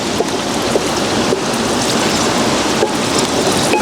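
Green chillies fry in hot oil with fenugreek seeds, giving a dense, loud, continuous crackling sizzle with no pauses.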